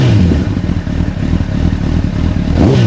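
A 2006 Honda CBR1000RR sport bike engine idles close by with a loud, steady mechanical rumble that stutters and wavers unevenly, as if not firing on every cylinder, with a slight rise in revs near the end.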